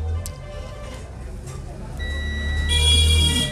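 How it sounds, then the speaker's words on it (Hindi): A digital multimeter set to buzzer continuity mode beeps while an MI LED TV panel is repaired. A thin, steady electronic tone starts partway through and grows louder against a low background hum. "देखो पहले मल्टीमीटर को बजर मोड पे कर लेते हैं"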